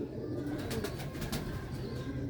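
Rooftop pigeons cooing in soft, repeated throaty calls close by, over a steady outdoor background hum.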